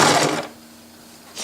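Sewing machine stitching a cloth napkin, a brief burst of machine sewing at the start that stops, then near silence before it starts up again.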